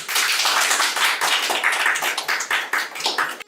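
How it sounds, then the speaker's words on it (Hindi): A crowd claps for a new education minister in a rural Haryanvi setting. The dense, continuous applause stays loud and close throughout, with no voices. "आज से ये रहे हमारे नए शिक्षा मंत्री, बजाओ ताली"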